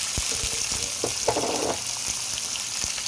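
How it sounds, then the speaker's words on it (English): Onions, garlic and seasonings fry in a pan for a Jamaican ackee and saltfish dish, giving a steady close sizzle throughout with a few soft clinks and stirring bumps. "I'm gonna fry everything up"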